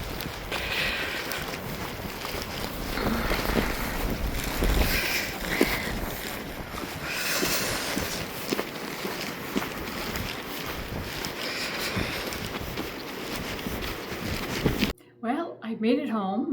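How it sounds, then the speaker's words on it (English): Wind drives blowing snow outdoors with a steady, loud, gusting roar that buffets the microphone. A brief voice cuts in at the very end. "it is blowing snow again"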